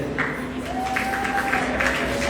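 An audience at a class of 2022 graduation ceremony claps in a steady, moderate round of applause, with a faint tone and some murmuring underneath.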